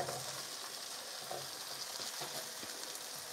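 Onions sauté in oil for chilli paneer with a soft, steady sizzle and faint intermittent stirring scrapes, heard quietly with no speech.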